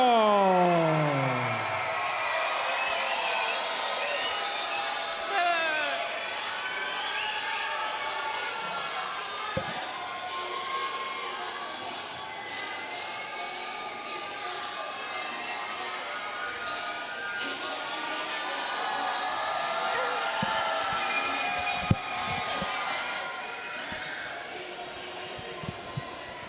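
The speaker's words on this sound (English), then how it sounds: "Everybody on their feet for this one as Steven Navarro. Big crowd." A big crowd at a boxing match roars and cheers continuously as a fighter enters the ring in Santa Ana, California, a sustained loud wash of voices with an announcer talking over it.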